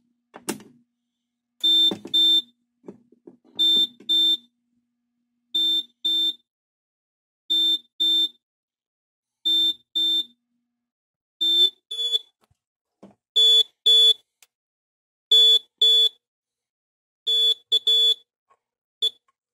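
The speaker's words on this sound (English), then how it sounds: "Go ahead and activate the smoke detector and you'll see both going at the same time." A smoke alarm sounds in repeated pairs of sharp, high electronic beeps with silent gaps between them, during a workbench alarm-system test. The pattern carries on steadily, loud and close.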